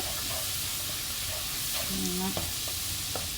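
Crushed ginger frying in a pan for cauliflower masala, a steady close sizzle with a few light stirring scrapes and clicks.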